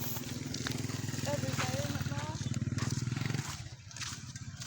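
A motorcycle passes on a street at night, its low engine putter pulsing steadily and close for about three seconds before fading, with people talking over it.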